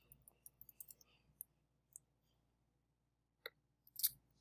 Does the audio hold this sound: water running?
no